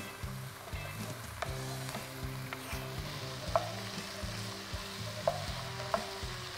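Potatoes and carrots in tomato and beef stock for minestrone soup, heard as a steady low simmer and sizzle, with clear intermittent stirring knocks and scrapes of a utensil against the pot.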